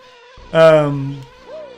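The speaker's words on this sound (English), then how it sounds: "Oh no, shoot, those bees are still after me." Bees buzz in the Banjo-Kazooie video game as a single short, loud harmonic drone that swells and fades within a second, followed by a brief rising tonal blip.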